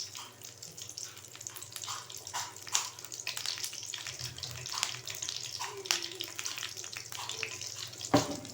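Curry leaves frying in hot oil along with cinnamon, star anise and coriander for chicken chukka, a close crackling sizzle with scattered pops and a sharp spatter near the end.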